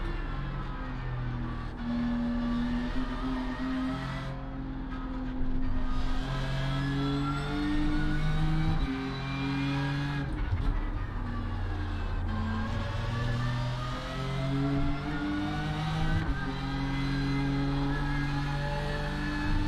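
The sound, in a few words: BMW M4 GT3 race car engine in iRacing video game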